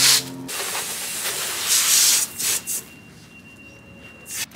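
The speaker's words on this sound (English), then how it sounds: "So right now he's just sanding this" Close, steady abrasive hissing of sanding on a painted car bumper, with a few brief louder scrubbing strokes and a quiet faint tone in the background.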